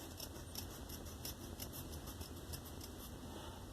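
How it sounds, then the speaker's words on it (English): Scissors snip steadily through gray tile backing, a soft continuous crunching cut with faint rhythmic clicks, close and fairly quiet over a low background hum. "I think I will cut a little more of that off"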